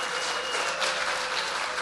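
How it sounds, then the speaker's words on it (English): A crowd applauds at a federal all-candidates forum in Huntsville, Ontario, in 2015. The clapping is dense and steady, fills the whole stretch at close range, and no speech comes through. "I appreciate the applause."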